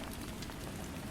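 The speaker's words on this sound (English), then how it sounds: "the sound of rain against the windows" Steady rain patters against windowpanes on a rainy night, a dense, even hiss of drops with no pauses, soft and continuous throughout.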